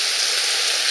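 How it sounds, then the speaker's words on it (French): Heavy rain and hail from a violent thunderstorm in the Var pour down in a dense, continuous hiss close by, with no voices. "Donc je continue à vous filmer un petit peu pendant l'orage"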